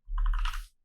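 A quick burst of computer keyboard typing, a handful of rapid clicky keystrokes lasting under a second, close and clear with no talking.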